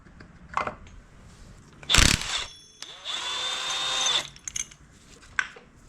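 A power tool whines steadily for about a second while removing a large engine bolt from a Subaru WRX FA20 during teardown, preceded by a sharp loud burst and followed by scattered clanks of handling in a workshop.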